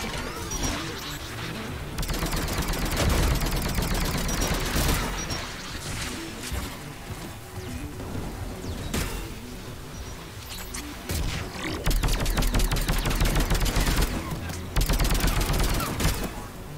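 Gunfire in the video game Mass Effect 3 crackles in rapid bursts and sustained volleys, loud and dense, alongside crashes and impacts from combat, with a voice speaking over the action.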